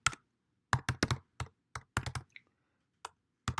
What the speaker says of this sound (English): Excuse my bad typing.